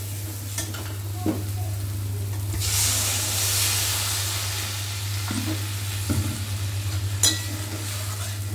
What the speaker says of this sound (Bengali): এবার আবারও সমস্তকে সুন্দরভাবে কষতে থাকবো